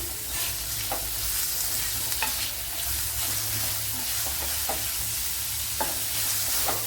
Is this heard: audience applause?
no